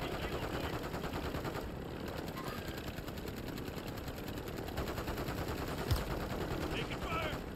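Rapid automatic gunfire in Call of Duty Warzone, long sustained bursts close by and loud, with scattered shots and game noise layered over it.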